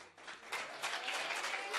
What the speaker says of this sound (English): I want to give a huge round of applause for the Church Divine crew